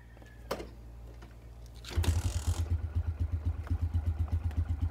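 After a clunk, a carbureted motorcycle engine, run eight months without an oil change, catches with a kick and settles into a steady, rhythmic idle, close and chugging.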